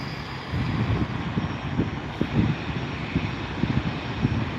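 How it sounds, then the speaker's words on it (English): An Airbus A320 airliner takes off at SNA airport, its engines producing a sustained, rumbling roar with pulsing low-frequency surges, heard from a spotting position at moderate distance with no talk. "So enjoy the A320 takeoff."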